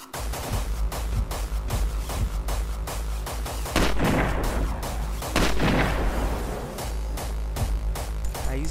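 Rapid, evenly spaced gunshots from GTA San Andreas, loud and close, punctuated by two heavier booming blasts midway.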